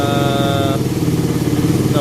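Carbureted Suzuki Raider 150 motorcycle running on full choke, a loud close engine with a fast, revving pulse over its brief duration.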